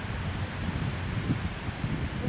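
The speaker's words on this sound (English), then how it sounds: "it's getting really hard to hear because of all the wind" Strong wind blows across an outdoor stage during a play. A steady, loud rush of gusts buffets the microphone, with no voices.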